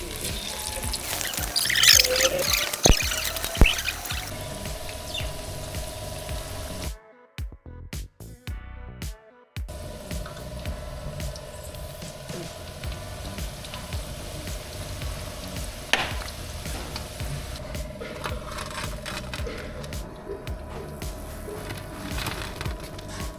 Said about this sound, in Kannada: ಇವಾಗ ಎಣ್ಣೆಗೆ ಹಾಕೊಂಡು ಕರ್ಕೊಳ್ಳೋಣ.